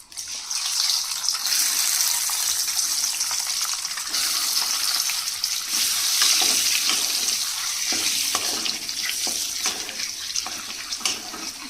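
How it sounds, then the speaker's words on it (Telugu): Eggs frying in oil with turmeric, chilli and salt crackle in a loud, dense, continuous sizzle close to the pan for the whole stretch. "ఇవన్నీ వేసేసుకొని మనం ఎగ్ ఫ్రై చేసేసుకుందాం."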